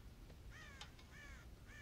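Crows caw repeatedly in a Red Dead Redemption farm scene near a corn silo, several harsh calls spaced over steady low outdoor ambience, with one sharp click in between.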